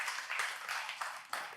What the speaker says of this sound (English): Go ahead and clap again